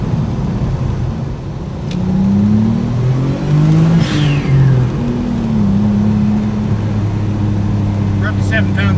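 A turbocharged Mazda MX3 pulls hard while driving. The loud engine drone climbs and wavers in pitch as it accelerates, with steady road and cabin noise underneath.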